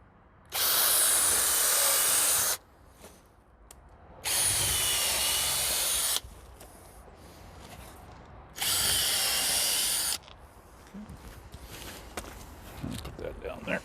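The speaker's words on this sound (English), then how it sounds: "Pre-drill, and then drill" A power drill pre-drills and drives star-drive screws into fence wood in three loud, sustained whirring bursts separated by pauses with handling noise and someone talking.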